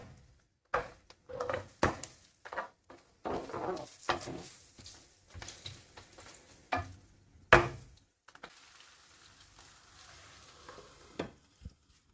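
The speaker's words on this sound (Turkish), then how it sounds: "Soğanlarımız kavruluyor arkadaşlar." Onions sautéing in a pan for a Turkish green tomato dish, with intermittent stirring scrapes and soft sizzling in short bursts separated by quiet gaps, fairly faint and close.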